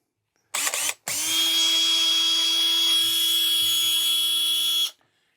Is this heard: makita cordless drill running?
yes